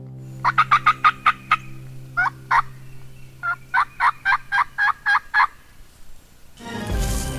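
Wild turkeys gobble in reply to hunters' calls outdoors, with a run of rapid, rattling gobbles in several bursts that sound fairly close and loud over a low background hum, ending with rustling noise.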